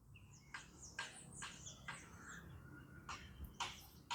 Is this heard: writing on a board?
no